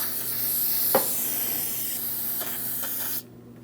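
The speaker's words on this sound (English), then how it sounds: "I'm just going to use some parts cleaner." Parts cleaner sprayed from an aerosol can around the brake master cylinder area of a 2005-2010 Chrysler 300, a steady close hiss lasting about three seconds before cutting off abruptly.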